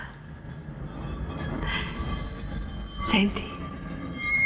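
The first tram of the day at dawn in Rome grinds along its rails, wheels rumbling and letting out a rising high-pitched squeal near the end, with a brief spoken word under the noise.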